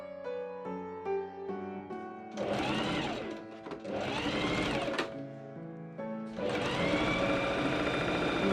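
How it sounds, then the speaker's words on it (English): A sewing machine stitches the side seams of Regency men's pantaloon trousers in three sustained runs, separated by short pauses, with music playing underneath throughout. "I machine sew the side trouser seams"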